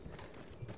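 Horse hooves clopping in the video game Battlefield 1, faint and quick, with soft game ambience around them.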